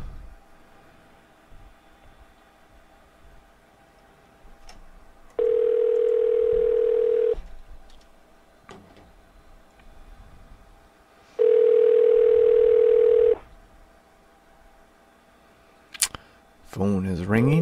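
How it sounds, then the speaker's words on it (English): A telephone rings in a basement with two long, loud steady electronic tones separated by quiet, followed by a brief click and clatter. "Phone is ringing."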